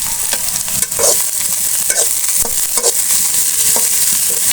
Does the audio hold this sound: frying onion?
yes